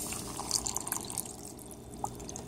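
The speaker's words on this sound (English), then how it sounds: "you're gonna add some water" Water is poured into a homemade blackberry, raspberry and ginger lemonade mix, a quiet trickle with a few small splashes and drips, fairly close and without talk.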